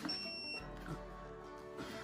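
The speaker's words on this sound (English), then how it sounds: "Do you actually set it to the number you want and it beeps when it's done?" An electronic Snap-on torque wrench sounds a steady high electronic beep tone at close range while being used on a Jeep Wrangler install, with a low hum running underneath.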